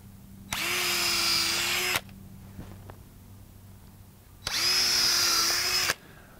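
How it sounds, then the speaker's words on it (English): Power drill boring holes into the flare roots of an avocado tree: two loud, steady whirring bursts of about one and a half seconds each, separated by a quiet pause with faint handling clicks. "I'm going to drill these."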